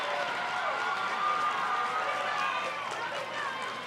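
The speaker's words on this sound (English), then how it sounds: "The crowd is loud." Loud crowd cheering and clapping in the stands at a Little League baseball regional championship game between New Jersey and Connecticut, a steady dense roar lasting throughout, with a commentator talking over it.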